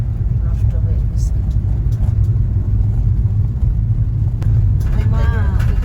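A car drives along a flooded, rain-damaged road, its engine a low steady rumble inside the cabin, with people talking over it.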